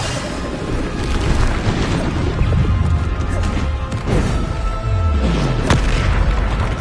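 A Bombarda spell blasting in Hogwarts Legacy, loud booming impacts and crashing debris layered through busy game action, with repeated heavy hits and a deep falling rumble near the end.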